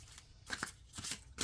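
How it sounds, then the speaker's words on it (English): A deck of tarot cards being shuffled up close: quiet papery riffles and flicks in a few quick bursts, with no talk. "I'm going to flip this around so I shuffle it better."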